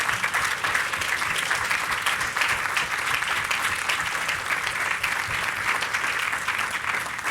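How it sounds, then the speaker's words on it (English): A room of conference attendees gives sustained, steady applause, a dense and even wash of many hands clapping throughout, with no speech over it. "do you know why they deserve a round of applause?"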